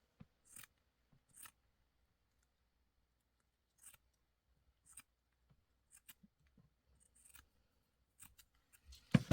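Scissors snip through pink lace in a quiet room, a series of faint, separate cuts spaced unevenly with short pauses between them.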